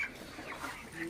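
Broiler chickens give soft, faint clucks in a short burst, close by in a quiet poultry shed around vaccination time.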